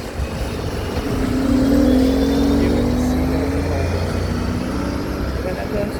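Cars stand in a long traffic jam on a European road, and their engines hum and rumble steadily nearby as one vehicle slowly moves up through its gears.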